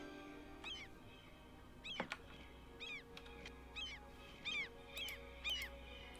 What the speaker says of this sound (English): Damn it, seagulls! Why are you so loud?